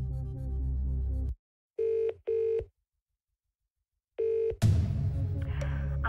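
Phone dialing in the Who Wants to Be a Millionaire 2nd Edition DVD game: three loud, steady electronic tone bursts in sequence, with a busier tonal passage and a rising swish of music before and after.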